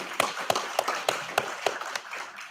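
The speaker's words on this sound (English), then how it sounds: "give them a round of applause for these folks" Scattered hand clapping at a university program completion ceremony, heard as about eight evenly spaced, fairly faint claps that fade out rather than building into full applause.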